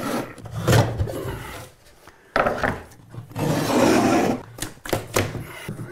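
A hole being cut in drywall with a hand saw, close rasping strokes in irregular bursts with short pauses between them, no talking.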